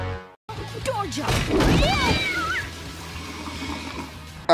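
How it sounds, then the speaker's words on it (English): Cartoon cat meowing while using a toilet: a run of wavering, rising and falling meows over trickling water and busy background noise. "why is the cat using the toilet?"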